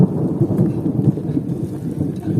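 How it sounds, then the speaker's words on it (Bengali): Thunder rolls as a low, continuous rumble during rain in a forest, with rain pattering steadily over it and no voices. "তোমরা শুনতেই পাচ্ছ, তোমরা শুনতেই পাচ্ছ মেঘের গর্জন"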